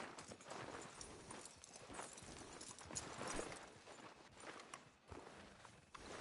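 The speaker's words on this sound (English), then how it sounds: "Are you gonna mount that new horse of yours or not?" Horse hooves in the video game Red Dead clip-clop in a steady walking rhythm, fairly close, over a dense background of ambient noise.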